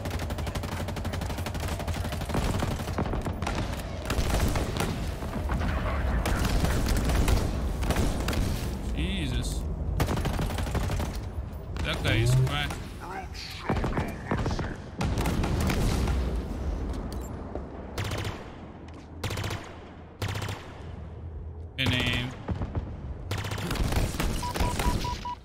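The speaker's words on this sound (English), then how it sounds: "I'm gonna shoot him from here." Video game gunfire in Halo Infinite, with bursts of automatic shots and booms repeating throughout amid battle noise, with a person talking over the action.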